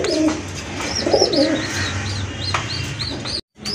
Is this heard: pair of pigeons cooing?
yes